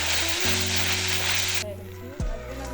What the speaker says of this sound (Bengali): এবার ডালটা দিয়ে দেব এক হাতা মতো ডাল দিয়ে একটু ঘুটে নিলাম